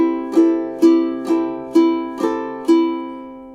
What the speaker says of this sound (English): one measure in terms of the eighth note strumming pattern would sound like this